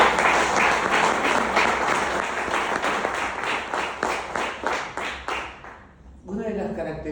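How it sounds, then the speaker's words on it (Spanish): A church congregation applauding, loud sustained clapping from many people that fades toward the end before a voice starts talking. "den un aplauso al Señor"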